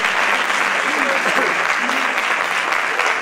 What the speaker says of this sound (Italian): Un applauso per incoraggiare